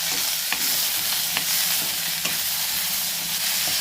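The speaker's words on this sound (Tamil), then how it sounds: "சின்ன வெங்காயம், அதை நல்லா வதக்கிக்கலாம்." Small shallots sautéing in a pan for a country chicken curry give a steady frying hiss, punctuated by several sharp spoon knocks against the pan at irregular intervals, close and with no voices.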